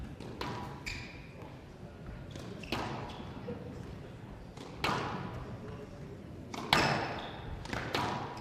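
Squash ball struck in a professional men's quarterfinal match at the Canadian Men's Open, including a half volley boast; several sharp, hollow thuds spaced a couple of seconds apart ring off the court walls over steady crowd and arena ambience.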